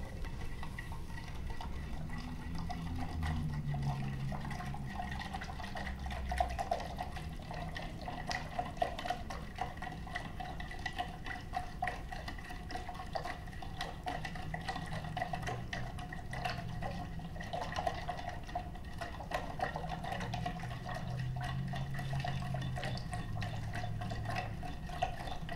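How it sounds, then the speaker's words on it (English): Sugar being stirred into water with a stick, faint liquid swishing and light clinks against the container repeating irregularly, quiet and close, over a low background hum. "I'm gonna use one of these sticks here just to mix it up"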